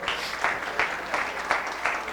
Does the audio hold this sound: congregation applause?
yes